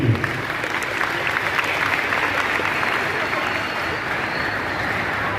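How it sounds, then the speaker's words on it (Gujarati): A large crowd applauds to welcome a team, loud sustained clapping that runs steadily throughout without a break. "ટીમને આપ સૌ સાથે મળીને તાળીઓથી વધાવી લઈશું."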